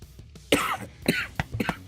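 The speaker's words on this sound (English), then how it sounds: "Coughing right in your ear." A man coughs several times close to the microphone during a live game stream, with harsh, throaty bursts in an uneven rhythm.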